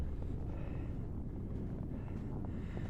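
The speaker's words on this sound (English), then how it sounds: "bit windy on that side" Wind gusts across snowy moorland on Dartmoor near Merrivale, a low, steady roar buffeting the microphone with slight swells, no voices.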